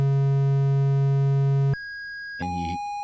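A low steady electronic drone from a 555-timer synth cuts off, replaced by a higher pure tone from its second oscillator alone, then a brief warbling buzzy burst before the tone settles at a new pitch.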